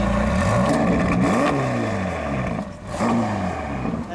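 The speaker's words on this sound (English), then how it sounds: "Let's hear a little exhaust note." A 2015 Ferrari California T revs hard through its exhaust, its loud, close engine note rising and falling in repeated blips with no talking.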